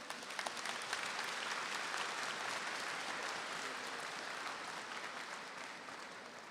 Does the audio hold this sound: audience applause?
yes